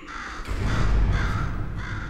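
A crow caws in the video game Portal 2, one loud, harsh, drawn-out call ringing close by in an otherwise quiet scene.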